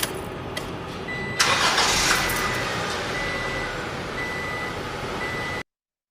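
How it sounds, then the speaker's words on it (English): A car engine cranks and fires, then settles into a steady idle while warming the engine and transaxle during an automatic transmission service, heard close and continuous, with faint intermittent beeps over the running engine. "Starting the engine to warm up the engine and the transaxle."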